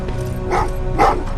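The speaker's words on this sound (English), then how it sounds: "Well, what's with the dogs?" Dogs bark in the video game Terminator Resistance: two short, loud woofs about half a second apart, near and clear against a low ambient background.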